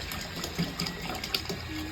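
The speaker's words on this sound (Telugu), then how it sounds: "ఇప్పుడు మనము వాటర్ వేసుకుందాము." Water is poured into a pot of cooked dal, producing a steady close splashing gush with a few small clinks.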